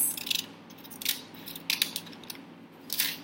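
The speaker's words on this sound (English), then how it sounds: "We're going to cut along the line like this." Scissors cutting paper along a line, four short crisp snipping bursts spaced about a second apart, close up, with quiet room tone between; no talking.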